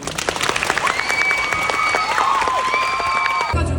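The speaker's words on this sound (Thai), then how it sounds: "ถ้าดีใจขอเสียงปรบมือหน่อยค่ะ" Fans at a fan meeting for Park Seo-joon applaud together in a loud, dense burst of clapping, with a high cheer or squeal rising over it before it cuts off abruptly.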